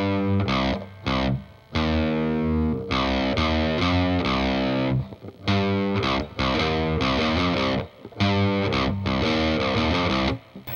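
Heavily distorted electric guitar playing the first half of a riff, loud chugging palm-muted chords in repeated phrases with short silent breaks, close and without talk.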